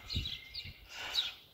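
Birds chirp outdoors, a few soft, high twittering calls in quick succession over a low background rumble, fairly faint and distant, with no talking.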